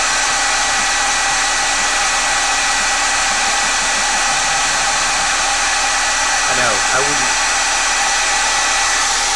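A loud hair dryer drying paint blows with a constant, close roar throughout, while a voice speaks briefly beneath it.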